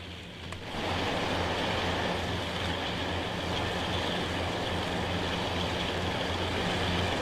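A Class 52 Western diesel-hydraulic locomotive in Train Sim World 6 powers up, its engine swelling after a brief click into a loud, steady roaring drone with a low throbbing hum that holds evenly to the end.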